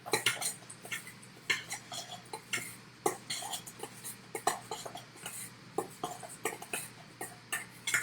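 Homemade granola ingredients, pumpkin seeds, flax seeds and walnuts, being mixed in a bowl, with repeated sharp clinks and scrapes of a utensil against the dish at an irregular, steady pace, close up and without talk.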